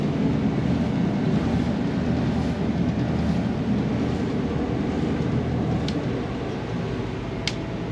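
A boat engine throttled up while docking on open water, a steady low rumble held throughout with wind and water noise, sea-trial conditions with one engine down.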